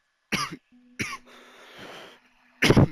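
Two sharp coughs close to the microphone, a pause with faint hiss, then a third harsh cough after a short gap.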